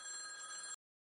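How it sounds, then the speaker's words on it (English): A hotel telephone rings in a Resident Evil fan-made visual novel, one short electronic bell burst that cuts off abruptly, clear and alone. "The hotel phone rings."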